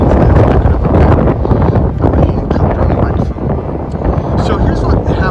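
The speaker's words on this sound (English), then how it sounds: "it really is windy over here" Strong wind buffets the microphone in continuous loud rumbling gusts, with a voice talking underneath.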